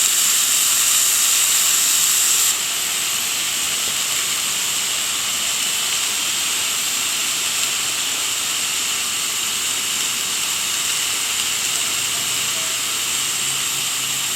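A thick piece of meat sizzles in a 10-inch Yeti cast iron skillet, producing a loud, steady hiss that continues unbroken throughout, close and uniform with no pauses.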